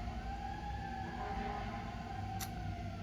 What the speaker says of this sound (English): Okay, sirens,